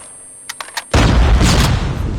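In the Call of Duty Mobile shooter game, a few quick sharp shots crack before a heavy, loud explosion erupts and rumbles on with dense gunfire, close and overwhelming.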